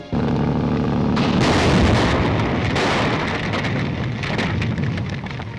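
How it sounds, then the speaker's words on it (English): A loud explosion in a 1939 film serial roars out and keeps crackling and rumbling, with debris-like noise continuing for several seconds. "That explosion will cause an intense investigation."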